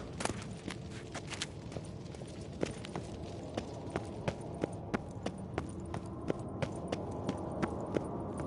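Horse hooves clip-clop in The Witcher 3 as the horses are saddled for a ride into the woods, a steady, evenly spaced walking rhythm of sharp hoof strikes over a soft background, with no talking.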